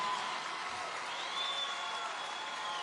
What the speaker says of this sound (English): that always gets like the biggest applause